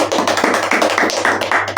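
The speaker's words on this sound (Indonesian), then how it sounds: "Oke, tepuk tangan untuk kita semua." A small group clapping together at the end of a group counseling session, loud close irregular claps over a brief burst.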